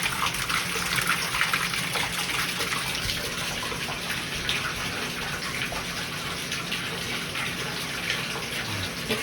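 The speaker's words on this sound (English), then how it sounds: "We're filling up the water." Water fills a bathtub in a rental house in Gapyeong, Korea, a continuous, even rush of running water that stays close and loud with no pause.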